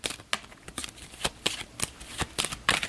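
A deck of cards is shuffled close up in a series of quick, crisp riffles and snaps, irregularly spaced and fairly quiet, with no talking.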